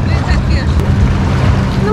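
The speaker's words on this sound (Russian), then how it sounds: "Ну, мы прямо в эпицентре вот этих всех лодок и масла моторного" Motorboats running on the sea close to shore at an evening waterfront in Montenegro, a steady low engine rumble mixed with wind and lapping water, continuous and fairly loud throughout.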